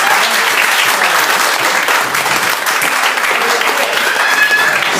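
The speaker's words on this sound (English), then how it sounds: "Let's give them a round of applause, ladies and gentlemen." Audience at a hypnotist show at Thornhill Trojans breaks into steady, dense applause, a continuous wash of clapping close by that holds evenly for about five seconds with little talk.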